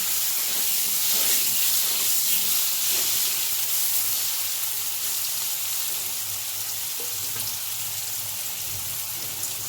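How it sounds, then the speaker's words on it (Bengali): Potato pieces fry in a pan of oil, seasoned with salt and turmeric, producing a constant, even, hissing sizzle that stays level for about ten seconds with no speech. "এবার আলুগুলো আমি লাল লাল করে ভেজে নেব।"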